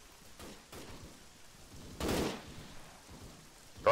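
Gunfire in the ARMA 3 Breaking Point game: one muffled, distant-sounding shot stands out midway over a steady rain-like hiss, with a couple of fainter pops before it and no talking.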